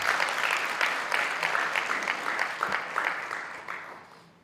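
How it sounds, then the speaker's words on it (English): Conference audience at a TVET college policy conference applauding as a guest comes forward, steady crowd clapping that fades away toward the end. "Let's give him a round of applause as he comes."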